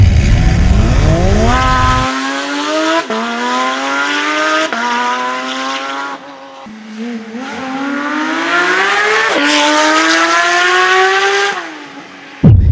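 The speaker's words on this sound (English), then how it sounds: "This is the IPE aftermarket exhaust system." A Porsche 992 GT3 with an IPE titanium aftermarket exhaust revs hard through several rising gear pulls, its exhaust note climbing in pitch with each shift, loud and close, then lifting off.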